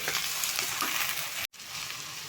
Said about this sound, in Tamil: இப்போது வாழைக்காய் வந்து நம்ம வேக வச்ச வாழைக்காயை சேர்த்துக்கலாம்.